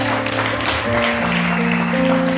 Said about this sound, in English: Give these guys another round of applause, for real,